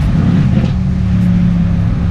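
Mercedes C63 AMG engine in Sport Plus mode, a loud, steady low rumble with a strong droning tone that holds throughout, heard from inside the car with no talking.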